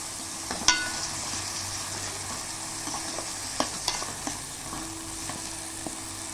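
Brinjal curry cooks in a pan with a constant low sizzle, and a spoon scrapes and taps against the metal in a few scattered strokes.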